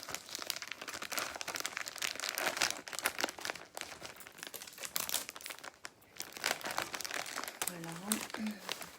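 Gift wrapping paper is crumpled and crinkled in quick, dense bursts of rustling, with a French-speaking voice talking over the crackle near the end.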